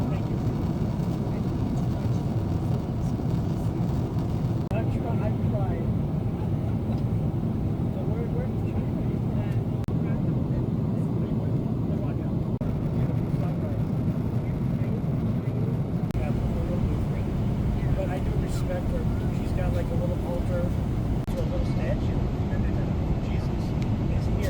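Steady broadband roar of a Boeing 777-300ER airliner cabin during descent toward Manila, a constant engine and airflow rumble filling the whole span at moderate level, with faint murmurs of passengers in the background.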